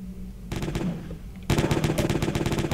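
Court launcher weapon firing in the game Jazzpunk, a rapid rattling stream of shots that starts lighter and then grows louder and denser, continuous without pauses.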